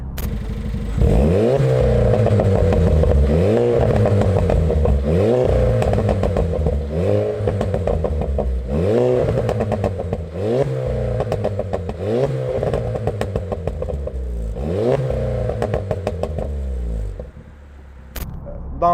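A Stage 3 hybrid-turbo Seat Leon FR with a full 63 mm exhaust and downpipe revs repeatedly in a steady rhythm of rising blips, loud and close, with pops and crackles between revs, then fades at the end.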